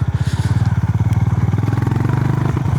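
Honda GB 350S single-cylinder motorcycle ridden off-road, its engine thumping in a fast, even pulse close by and loud, with a steady throbbing rhythm throughout and no talking.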